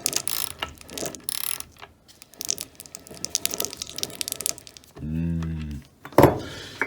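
Freshly re-greased gears of a Wolf BS3B belt sander mesh with a clattering, ratcheting mechanical rattle, uneven and fairly close, broken by a brief tonal hum near the end.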